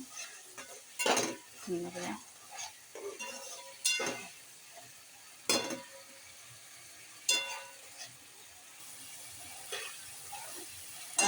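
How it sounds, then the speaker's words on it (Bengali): Spice mix sautéing with potato and cauliflower in a pan, with soft sizzling under repeated stirring scrapes and clinks of a utensil against the pan at close range. "এই যে আলু আর ফুলকপি দিয়ে একটু কষাই নেই।"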